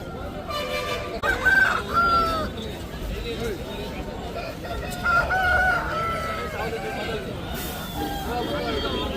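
Aseel roosters crow in short bursts at a busy Friday poultry market in Kundarapalli, mid-distance over a constant murmur of crowd chatter and people talking.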